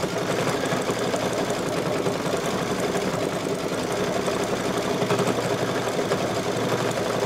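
An embroidery machine stitching the fill of rocket body stripes on a parade truck design runs in a steady, continuous mechanical whir with a fast rhythmic needle chatter, close and alone.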